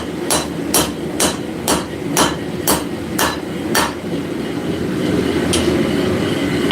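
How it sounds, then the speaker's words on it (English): Hot metal hammered flat on an anvil during live forging, eight sharp, ringing blows in a steady rhythm, then a pause and one final strike, close and loud over a low workshop hum. "we got to flatten it out. I'm actually going to use the back anvil here to do that"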